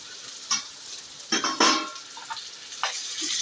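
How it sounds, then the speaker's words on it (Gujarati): Okra drops into hot spiced oil in a pan for Gujarati bhindi kadhi, bursting into sharp sizzling and frying crackles in short bursts with stirring noises between. "હવે આપણે ભીંડા છે, આશરે 100-150 ગ્રામ જેટલા હશે એટલા ભીંડા આપણે નાખી દઈશું।"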